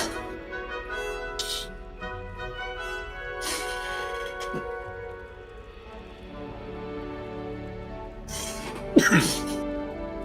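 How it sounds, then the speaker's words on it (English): Harsh coughing bursts from a player during a live Hogwarts Legacy stream: a few scattered coughs early and a louder, rougher cluster near the end, all over a steady bed of game sound. "My apologies for coughing my ass off"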